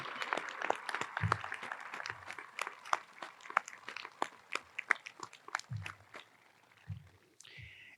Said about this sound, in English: Let's have another round of applause for our distinguished alumni.